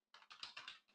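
Typing a terminal command on a computer keyboard, a quick close run of about five or six crisp key clicks over one second, with no voice.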